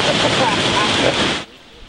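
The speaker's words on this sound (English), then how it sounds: "It's a little windy today!" Strong coastal wind during a hurricane, with loud, constant buffeting roar against the microphone for over a second before it abruptly drops away to near quiet.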